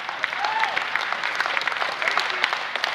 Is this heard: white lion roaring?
no